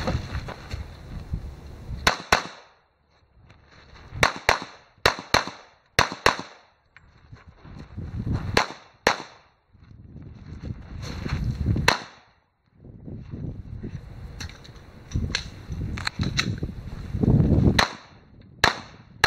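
Gunshots ring out in a shooting-match stage, sharp loud cracks fired in quick bursts and pairs with short pauses between strings, echoing slightly in an open range.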